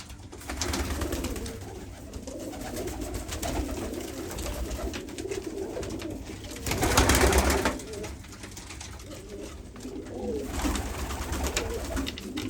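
Japanese fantail pigeons coo in a loft with young birds, soft repeated throaty coos over a busy background of other birds, with a louder burst partway through.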